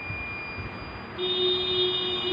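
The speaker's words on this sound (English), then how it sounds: "To stop that beep sound, you have to press stop key." An electronic beep from a leak test apparatus at the end of its test cycle sounds continuously over a constant machine hum, growing louder partway through and holding steady.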